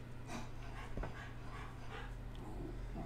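A dog pants steadily close by with faint whimpers, low and continuous, under a broadband background hiss in an indoor space.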